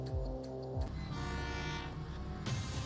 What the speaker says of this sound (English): There's the train approaching warning.